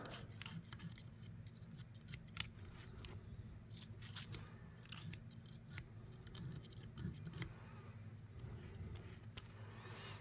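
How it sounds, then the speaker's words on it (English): A vintage Camco 229 electrician's pocket knife being scraped clean of grime, with faint, irregular scratchy clicks and rasps close up over a low background hum, no talking. "Scrape out some of it there."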